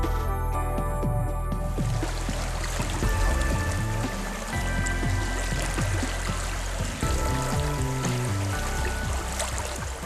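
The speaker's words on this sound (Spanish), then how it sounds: "En ocasiones, sus aguas discurren a velocidad media y el sonido relaja al caminante." A river near Ávila runs at moderate speed over granite rocks and ledges, giving a steady, full rushing and gurgling wash that stays unbroken throughout.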